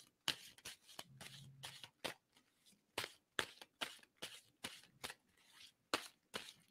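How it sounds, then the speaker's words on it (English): A deck of playing cards is shuffled in repeated quick riffles, each a short crisp burst of fluttering snaps, about a dozen in a steady rhythm, close and fairly quiet with a short low hum partway through. "So I'm going to stop shuffling."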